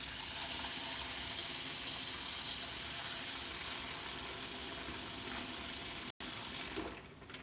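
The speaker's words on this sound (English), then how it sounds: "We're gonna put a little bit of water down into the ice bath" Water poured steadily into an ice bath for making pine tar soap, a loud continuous splashing gush that stops near the end with a brief drip afterward.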